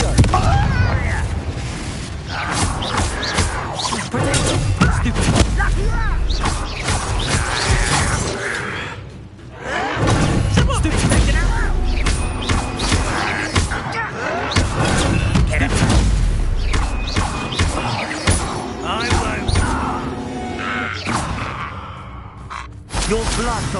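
Confringo spell blasts in Hogwarts Legacy go off as loud, repeated fiery booms and crashes, overlapping in a dense battle din with gasps and voices mixed in, easing briefly before starting up again.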